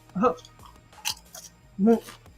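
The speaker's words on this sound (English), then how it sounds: "I have real teeth, so you can hear me crunch." Doritos tortilla chips crunch between real teeth in close, crisp bites, one sharp crunch falling between short bursts of nearby talk.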